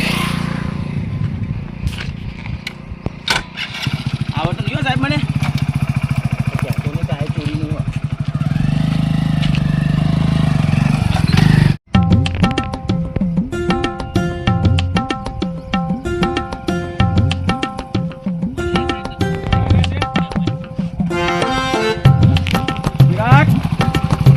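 A motorcycle engine runs with a low, steady rumble for about twelve seconds while people talk near it, then cuts off abruptly and music takes over.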